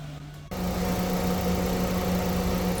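A Mitsubishi Xpander engine idles smoothly and evenly, a steady mid-low hum with a constant tone that starts abruptly and holds without misfires, heard close and alone.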